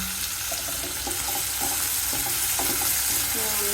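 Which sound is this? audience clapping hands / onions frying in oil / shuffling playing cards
onions frying in oil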